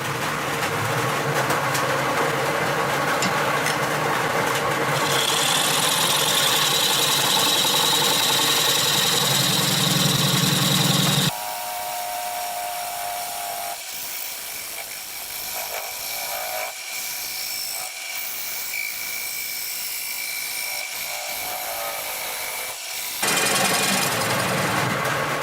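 A parting tool cuts a concave into the bottom of a side-mounted hollow wood vessel spinning on a lathe, giving a loud, steady grinding roar that drops to a lighter, scratchier tone partway through before the heavier roar returns near the end.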